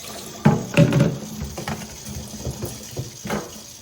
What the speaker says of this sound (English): pour it out, and rinse it again with cold water